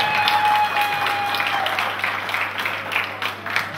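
A concert audience at a show in Belgium applauds in a steady wash of clapping, with a voice briefly heard over it.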